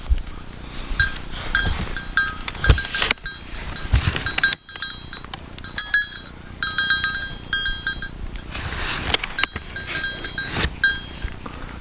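Goats bleat repeatedly, some calls overlapping, over a steady outdoor hum with scattered rustles and knocks; loud and close, no talking.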